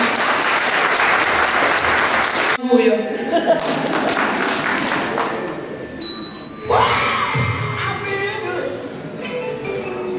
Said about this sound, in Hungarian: Hölgyeim és uraim, kérjük, tapsolják meg, ha a nevét látják.